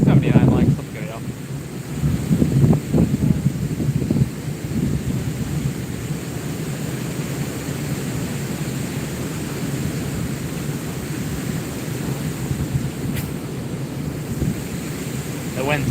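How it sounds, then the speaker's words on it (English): Wind blowing outdoors at a fishing spot, a steady loud rumble and buffeting roar that fills the whole stretch, gustier near the start, with a voice briefly audible under it. "The wind's picking up from the east right now."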